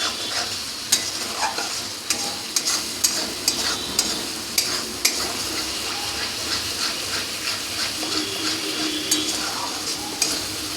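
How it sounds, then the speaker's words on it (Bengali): Spices for a vegetarian eggplant dish stir-fried in a pan with turmeric, a constant sizzle under repeated sharp scrapes and knocks of a spatula against the pan, close and moderately loud. "ভালো করে একটু মশলাটাকে কষে নিতে হবে।"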